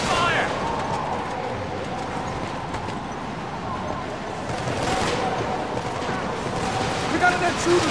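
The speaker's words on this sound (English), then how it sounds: "Taking fire!" Gunfire in the Killzone 2 video game: rapid bursts of shots crackle through a busy battle soundscape at moderate level, with voices calling out over the fighting.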